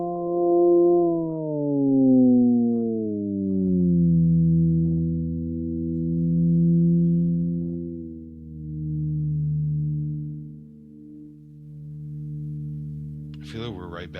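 Steady electronic test tones from a sound-guessing game glide and step down in pitch, layered with harmonics, sustained and fairly loud over fourteen seconds, with a brief burst near the end.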